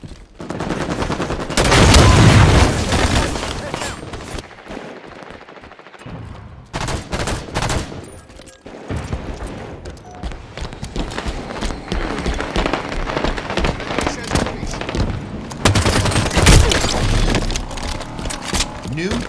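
Bursts of automatic gunfire in a Halo 5 Big Team Battle Slayer match, loud rattling volleys recurring across the stretch amid game sounds, with in-game announcer voice callouts heard throughout.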